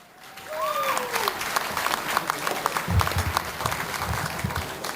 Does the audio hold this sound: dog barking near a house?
no